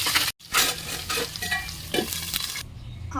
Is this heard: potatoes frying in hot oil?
yes